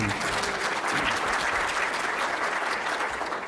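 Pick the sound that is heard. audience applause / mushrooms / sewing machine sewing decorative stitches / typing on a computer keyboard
audience applause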